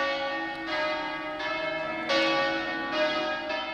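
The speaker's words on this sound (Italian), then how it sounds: "per l'ultima benedizione scandita dal suono delle campane." Church bells toll at a funeral, each stroke ringing out with a long shimmering decay, struck roughly every second or so at moderate distance with no talk.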